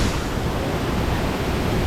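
The Kiss Me Fall waterfall near Georgetown, St. Vincent, a loud, steady wash of falling water that roars without a break.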